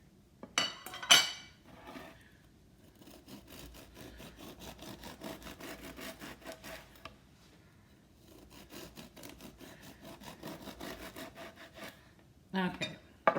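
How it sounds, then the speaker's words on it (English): Knife strokes slicing through food on a board while making chicken salad, several rhythmic cutting bursts separated by quiet pauses, with a couple of louder clatters from dishes, close and unaccompanied by talk. "Let me make a few more slices here."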